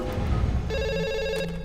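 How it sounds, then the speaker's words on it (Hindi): A telephone rings after a call is placed, a bright electronic ringing tone that starts partway through over a low rumble of background sound, heard near and distinct. "सीबीआई डायरेक्टर को फोन लगा।"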